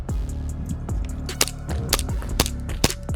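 An Army Armament R603 gas blowback airsoft pistol with a full metal slide, firing a rapid series of sharp, crisp close shots, each a snappy crack with slide clack, loud and alone.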